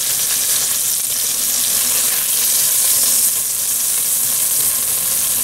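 Short ribs browning in a frying pan for a braised stew, giving a steady, loud, continuous sizzle and spatter of hot fat close by with no break.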